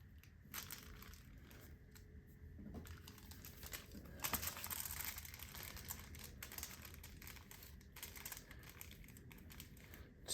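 Duct tape pulled and pressed onto an envelope for a homemade Faraday bag, with close crinkling, tearing and rubbing noises in irregular bursts and no talking.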